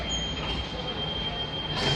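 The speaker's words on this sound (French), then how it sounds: "notre métro il est là" Marseille metro train pulling into a station, a steady rumbling roll of the cars with a thin sustained high squeal from the wheels, a brighter hiss rising near the end, loud and continuous.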